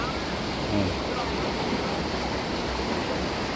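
Strong river water flows past a lift net in a steady, dense rushing wash, close and constant throughout, with someone talking faintly over it.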